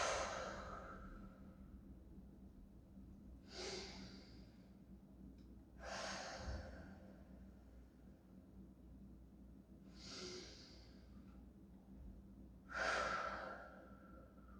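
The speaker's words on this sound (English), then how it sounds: "Putting some nice deep breaths." Slow, deep breaths during a standing stretch with the head hanging; about five long, airy inhale-exhale cycles spaced several seconds apart, close and fairly soft over quiet room noise, with no talking.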